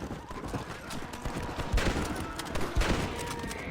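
Ammunition explodes in the Red Dead Redemption video game as a rapid crackling fusillade of small bangs, with two heavier pops standing out near the middle and end.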